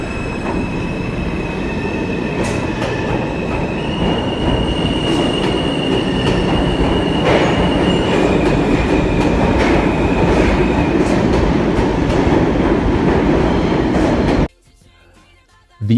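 New York City subway cars (R142, R142A, R188) with AC induction traction motors run loud and close, steady rumble with motor whine tones and wheel squeal, ending in a sudden drop to quiet near the end.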